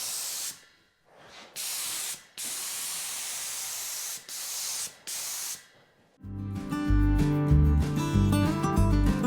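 Aerosol spray paint hisses onto a car dashboard in several bursts separated by brief pauses, then music takes over near the end of the clip.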